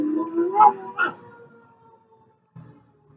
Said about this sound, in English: And my dog sitting here is going crazy.